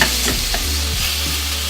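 A New York strip steak browns in a hot pan, with steady frying sizzle and a few scraping stirs of a utensil, close and loud with no voices.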